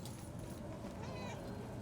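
A cat meows faintly in the video game Murdered: Soul Suspect, a short quiet call buried in a murky, muffled ambient bed.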